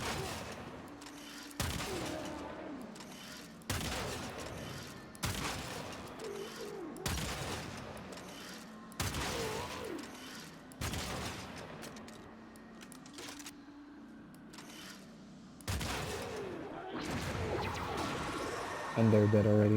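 A Drakgoon flak cannon in the game Warframe fires heavy, booming blasts at a steady pace, roughly every second and a half. Someone talks over and between the shots.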